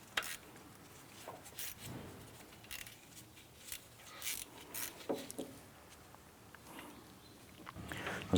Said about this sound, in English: we can go ahead and snug this bolt down right here